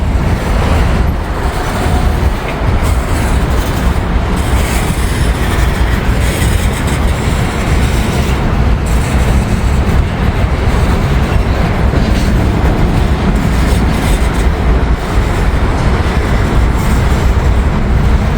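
A slow-moving freight train rolls steadily past up close, a continuous heavy rumble of wagons with rhythmic wheel clatter and occasional squeals, loud and unbroken throughout.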